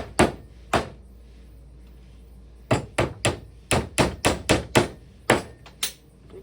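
Thin E6 wooden dowels are tapped into a layered page assembly, producing a series of sharp, close knocks: two early, then a rapid run of about ten strikes after a pause.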